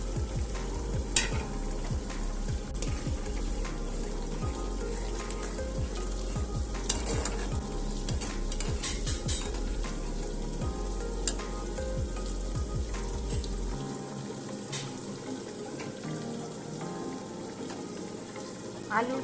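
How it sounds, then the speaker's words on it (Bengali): Grated tomato frying in a pan of nearly cooked potatoes and flat bean seeds, giving a steady close sizzle with scraping stirs and a few utensil clinks, the low background cutting out near the end. "এবারে এই টমেটোটা এখন আমি এর মধ্যে দিয়ে দেব।"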